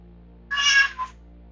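A single cat meows once, clear and fairly close, rising then tailing off with a short second note, over a low steady background hum.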